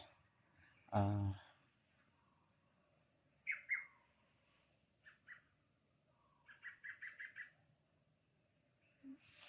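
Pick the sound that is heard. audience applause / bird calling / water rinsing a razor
bird calling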